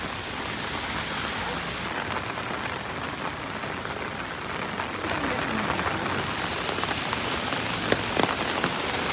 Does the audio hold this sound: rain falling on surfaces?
yes